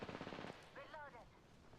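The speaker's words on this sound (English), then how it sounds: "I'm getting shot at" Video game gunfire, a quick burst of automatic shots lasting about half a second, followed by a brief electronic chirp and quiet.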